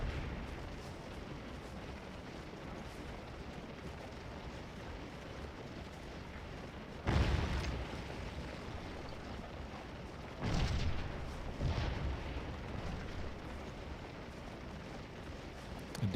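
Cannon firing canister in a Gettysburg Civil War battle video game: two loud booming blasts about three seconds apart over a steady rumbling battlefield din, the second followed by a rolling echo.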